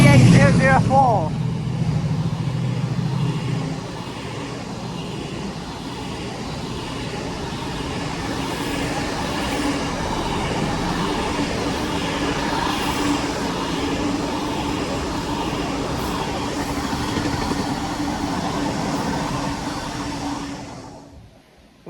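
Freight train hauled by locomotive 68004 on a diverted West Coast Main Line run passes with a steady, loud rolling roar that holds for about twenty seconds and fades abruptly at the end.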